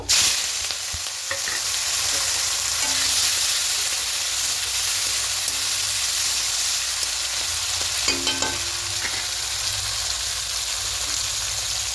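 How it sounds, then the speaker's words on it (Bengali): Shrimp hit hot oil with bay leaf and dried red chillies, giving a loud, dense, continuous sizzle close up, with occasional scrapes and stirring clicks over the steady frying hiss. "এবার চিংড়ি মাছগুলো দিয়ে দেব।"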